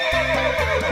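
A single loud, close horse neigh, a shrill whinny wavering in pitch for about a second.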